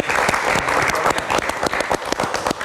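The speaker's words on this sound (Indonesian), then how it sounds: "kita beri tepuk tangan dulu untuk Aumania" A studio audience at a live evening variety show bursts into dense, close applause, steady and loud for nearly three seconds.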